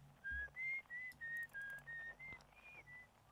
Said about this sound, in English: He's whistling.